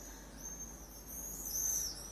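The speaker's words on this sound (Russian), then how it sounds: "У нас птички там поют за окном." Outside a window, birds sing in thin, high, drawn-out calls that rise and fall over a soft, steady background hiss, fairly faint and distant.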